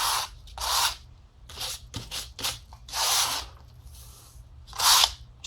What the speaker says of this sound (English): when I run the sandpaper over the paint, it smears a little bit of dried paint into the white areas